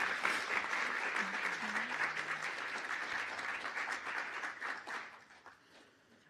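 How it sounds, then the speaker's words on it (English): A crowd claps for the Student Nurses Association Board at a college nursing pinning ceremony, with full, even applause that holds strong and then fades away over the last second or so. "Congratulations and a round of applause for the Student Nurses Association Board."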